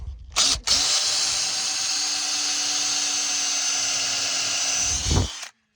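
A power drill drilling a small pilot hole whirs steadily for about five seconds at close range, starting and stopping abruptly, with no talking.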